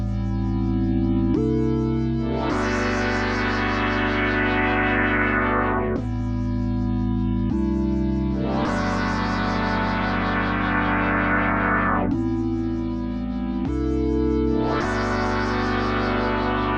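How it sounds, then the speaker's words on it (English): Universal Audio PolyMax synthesizer playing an FM patch through effects, with sustained distorted chords and chorus shimmer, repeating in a phrase of short stabs followed by long held notes, loud and with no talk. "I'm going to mess with this FM really quick and see what that sounds like"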